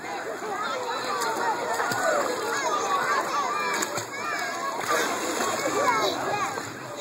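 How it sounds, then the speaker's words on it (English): A young girl swims in a pool, splashing and sloshing water continuously at close range, with children's voices and chatter mixed in throughout. "Here's Sisaloo, showing you how well she can swim."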